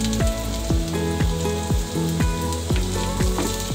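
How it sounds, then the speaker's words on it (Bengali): Chopped garlic tossed into a hot pan, a loud close sizzle broken by rapid rhythmic spatula knocks against the pan, no voices. "এটাকে হালকা একটু ভেজে নিব। হ্যাঁ, এবার রসুন কুচিগুলো দিয়ে দিলাম।"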